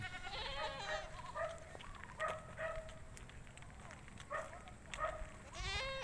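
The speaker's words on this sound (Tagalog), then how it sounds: "Ayan ang mga kambing." Goats bleating repeatedly on a small farm in Tarlac, several wavering calls in turn at close range, with faint background noise between them.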